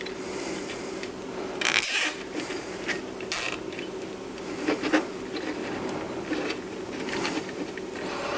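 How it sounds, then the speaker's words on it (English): A cable tie is ratcheted tight around bundled cables while assembling a Colour Maximite computer, giving a few short creaky zipping rasps over a steady low hum, close and fairly quiet, with no talking. "Put a little cable tie on those to neaten them up."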